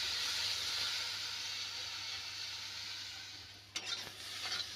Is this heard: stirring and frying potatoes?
yes